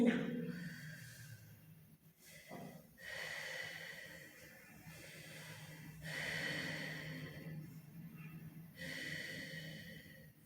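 Slow, quiet breathing in and out during a yoga and Pilates flow, with soft audible inhales and exhales at an even rhythm, close to the microphone.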